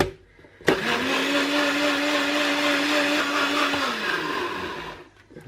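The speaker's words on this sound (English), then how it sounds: "And I've got my blender all set up, and we'll get it on to blend." Kitchen blender whirring through a cream cheese smoothie, switching on abruptly with a steady high motor whine for about three seconds before winding down and stopping.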